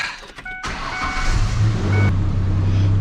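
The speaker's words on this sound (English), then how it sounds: "Go ahead and restart the car." A 3.0L Ford Ranger engine cranks and catches after a camshaft position sensor replacement, then settles into a steady low idle after a short whine from the starter.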